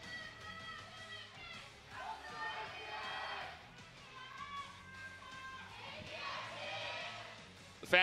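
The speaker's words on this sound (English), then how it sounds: "Pretty much a full crowd here." A large live crowd of fans at a League of Legends esports match between ROX Tigers and KT Rolster fills a venue with a diffuse murmur and swelling cheers, under a caster's voice.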